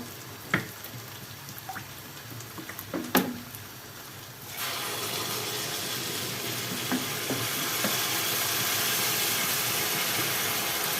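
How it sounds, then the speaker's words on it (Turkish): Water is added to a cooking pot: a few light clinks and knocks come first, then a steady, continuous pouring stream takes over and runs to the end. "Evet arkadaşlar şimdi suyumu ilave ediyorum."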